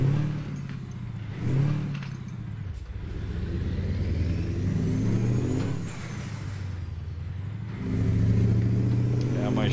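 A Mack truck engine rumbles steadily in a trucking game, a low heavy drone with a sharp air-brake-like hiss partway through and revving swells near the end, while someone talks over it.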